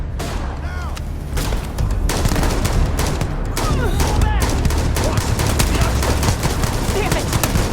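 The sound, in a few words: gunfire in the video game Starfield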